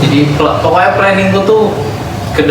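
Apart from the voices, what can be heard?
No everyday noise stands out behind the speech.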